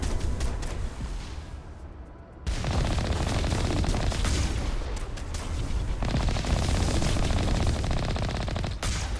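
Rapid gunfire rattles from enemies shooting at the player in Mass Effect, dense loud bursts and booms that pause briefly, then resume in sustained volleys.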